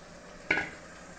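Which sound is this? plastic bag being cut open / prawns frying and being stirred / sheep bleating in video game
prawns frying and being stirred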